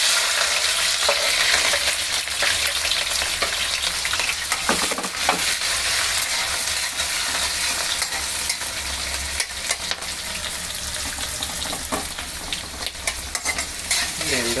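Onions and green chilies fry in hot oil with a steady, loud sizzle and crackle, stirred now and then, filling the whole stretch without any voices.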